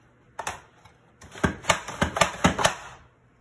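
Food being sliced on a Rapid Prep Mandolin slicer: a series of quick, crisp clacking strokes, a couple of isolated ones first, then a steady rhythmic run of about eight close, sharp cuts.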